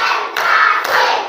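A school class claps out a rhythmic pattern together, two sharp bursts of many hands in quick succession, loud and close in a classroom.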